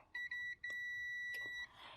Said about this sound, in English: If your meter beeps, that means the heat sensor is good.